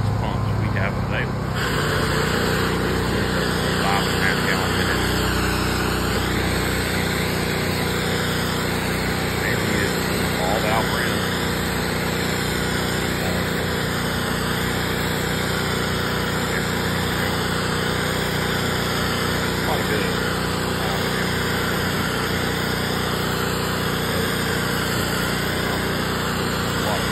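A petrol engine drives an all-in-one pressure washer and soft wash pump, running in a steady, loud drone throughout with a high whine on top. It sounds close and continuous.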